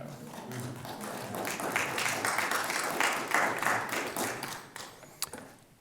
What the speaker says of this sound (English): Yeah, that's worth some applause.